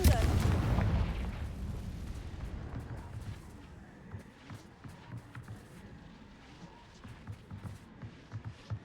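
A Confringo fire spell blasts in Hogwarts Legacy, opening with a heavy, booming burst that rumbles and fades, followed by scattered smaller cracks and thuds from continued gameplay action.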